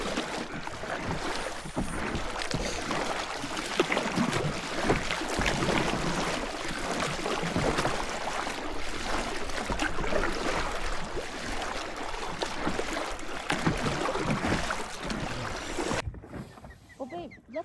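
Paddling a boat on Mono Lake: steady broadband splashing and water wash with wind, continuous and close for most of the stretch, then dropping away abruptly near the end.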